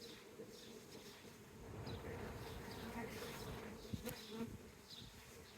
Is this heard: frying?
no